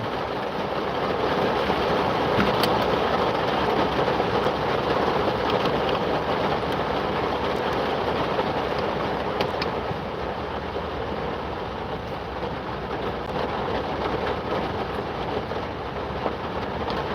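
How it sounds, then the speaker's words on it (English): Heavy rain pouring down, a dense continuous roar that stays loud and even throughout with no talking, as if drumming on a vehicle or roof nearby. "It's raining hard."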